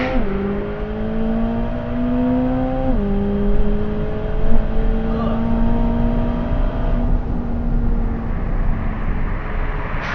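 A 2026 Corvette ZR1X accelerating hard under launch control, engine pitch climbing steadily with a shift-like drop near three seconds, loud and continuous as it pulls away.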